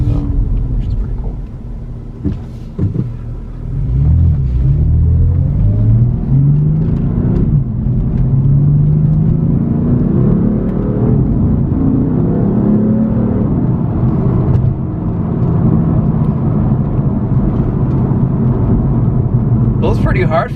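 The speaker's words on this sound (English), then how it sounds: "Pulls pretty hard for a stock car though." A stock BMW F80 M3 accelerates hard on a public road, its loud engine note climbing in pitch through several gear pulls before holding a steady roar.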